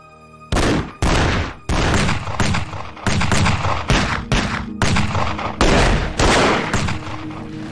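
Rifle and six-shooter gunfire in an old-time Western radio drama about Tombstone and the Apaches: about a dozen loud, sharp shots at a steady uneven rhythm, each followed by a short ringing decay, with no voices over them.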